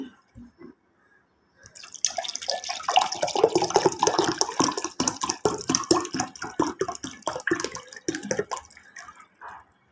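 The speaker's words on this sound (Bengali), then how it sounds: "এখন দিয়ে দেবো এই যে ফ্রিজের ঠান্ডা পানি" Cold water from a fridge is poured into a glass with lemon for sherbet, a steady splashing, trickling stream that starts after a couple of soft knocks and runs for several seconds close by.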